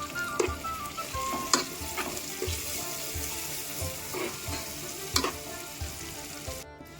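Tomato pieces with turmeric and salt fry in a pan while being stirred, a constant low sizzle broken by repeated sharp scrapes and clacks of the spoon against the metal.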